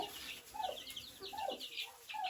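Soft clucking from a turkey hen with short repeated calls mixed with small peeping sounds from her poults, faint and close, no talking.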